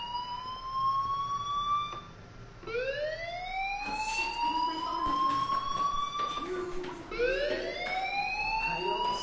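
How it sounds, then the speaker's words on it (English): A fire alarm in a video game wails with rising, sweeping siren tones that repeat several times, loud and close, with faint background noise between the sweeps. "do you hear that fire alarm? That means you should be outside."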